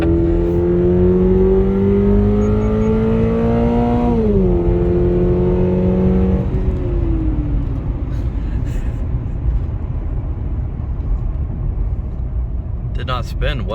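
A 2022 Subaru BRZ launching hard, its engine note climbing steadily through the revs with a shift around four seconds, loud and close, then fading into road and wind roar.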